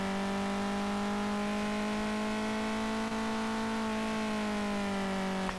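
A tuned Audi S3 8L of about 400 horsepower in the SLRR racing game holds a steady, high engine drone under acceleration, its pitch climbing slowly and then easing slightly near the end.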